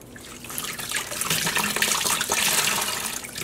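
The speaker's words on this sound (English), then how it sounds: "I used really hot tap water, added a huge splash of vinegar, and then let this soak for a bit" Hot tap water runs steadily into a sink to rinse hand-dyed yarn soaking with vinegar, a loud continuous splashing gush that holds for the whole stretch.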